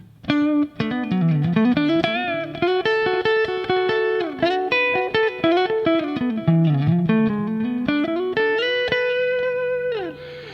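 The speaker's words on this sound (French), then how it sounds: "On a de la réverbération," Clean electric guitar played through a Theta Pro DSP effects unit with reverb and a short delay, sustained notes bending and sliding loudly with trailing echoes, no voices.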